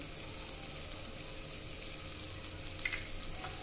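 Soft continuous sizzling from a pan of bitter gourd curry as jaggery is stirred in, a steady hiss with faint scraping and no talking.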